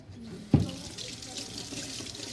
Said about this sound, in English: now I need to wash my hands because they're full of meat